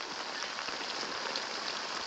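Rain falling steadily, a dense even hiss of drops pattering on surfaces, constant and moderately loud with no voices.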